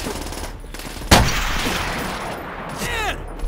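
Gunfire in the World War II shooter game Call of Duty: World at War, with a sharp loud shot followed by a rolling echo and a clatter of further shots, as a voice speaks over the action.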